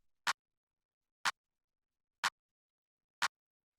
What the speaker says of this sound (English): It's just like this kind of small clap sample.